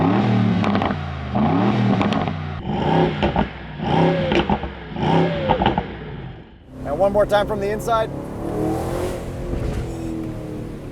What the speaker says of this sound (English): I can also listen to those backfires and they sound glorious.